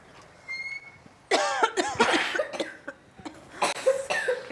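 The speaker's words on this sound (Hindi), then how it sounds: "शायद इसी वजह से खांसी हुई।" Coughing from a person in a TV drama scene, a run of harsh, close coughs in repeated bursts with short gaps, loud and without speech.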